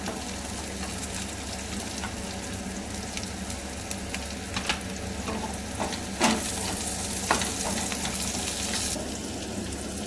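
Curry leaves dropped into hot oil for an okra curry give a steady close sizzle, with a few sharp bursts of crackle partway through, no talking.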